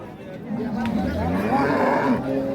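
A Holstein Friesian cow at a village cattle market lets out a long, loud moo close by, rising and sustained, with faint human chatter around it.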